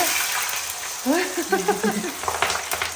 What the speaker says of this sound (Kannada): ಅದು ಹೈ ಫ್ಲೇಮಲ್ಲಿ ಒಂದು ಸ್ವಲ್ಪ ಚೆನ್ನಾಗಿ ರೋಸ್ಟ್ ಆಗಬೇಕು. ಅದು ಬಬಲ್ಸ್ ಎಲ್ಲ ಕಮ್ಮಿ ಆಗುತ್ತೆ, ಅವರೆಕಾಯಿ ಎಲ್ಲ ತೇಲದೈತಾ